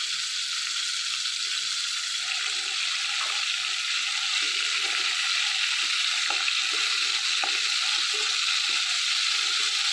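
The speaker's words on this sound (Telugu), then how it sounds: "ఈ చేప ముక్కల్ని వేయించుకుందాం." Fish pieces fry in hot oil in a pan, a continuous bright sizzle and crackle that stays steady and close for the whole stretch, with no voices over it.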